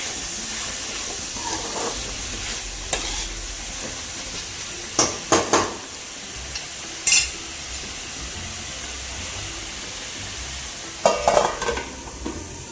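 Tomatoes sautéing in a pan, a steady soft sizzle and hiss running throughout, with several brief scraping stirs of a utensil against the pan scattered through the clip.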